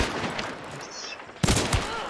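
Gunfire in the multiplayer shooter Hunt: Showdown: a sharp burst of loud shots breaks out after a stretch of quieter game ambience, with a couple of follow-up cracks. No one speaks during it.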